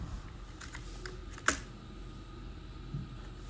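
Text typed on a computer keyboard in Microsoft Word, a few quiet scattered keystrokes with one sharper tap, close by and alone.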